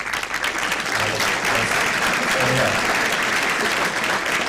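Applause from an audience at a talk during a college event, a steady, dense wash of clapping that holds for several seconds at moderate volume, with faint voices underneath.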